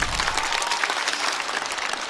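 Studio audience at a stand-up comedy show applauds a performer, a dense, steady wash of clapping lasting about two seconds, loud and close with no voices over it.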